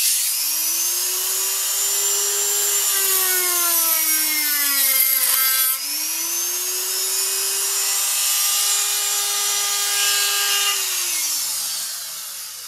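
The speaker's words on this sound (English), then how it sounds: "So I got the cutoff wheel in the Dremel." A Dremel rotary tool fitted with a cutoff wheel slices through metal, a loud steady high-pitched whine with shifting tones that dips briefly midway and then runs on alone for about twelve seconds.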